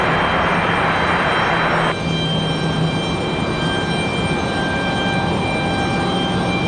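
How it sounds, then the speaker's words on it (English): A Breeze Airways airliner arriving at Raleigh-Durham airport gives off a steady, moderately loud engine drone with thin tonal whines, the broad roar dropping off abruptly about two seconds in, and no voices heard. "A nice arrival for Breeze Airways"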